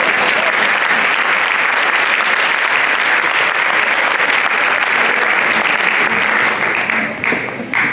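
Steady, loud applause from a conference audience fills the hall throughout, dense and continuous, with a slight dip near the end.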